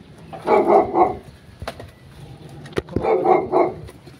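A dog barks in two short bursts of a few yaps each, separated by a pause with clattering noises, fairly close.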